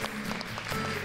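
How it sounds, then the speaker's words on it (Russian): A concert audience claps together, a dense, steady burst of applause heard close for about a second. "Ваши аплодисменты."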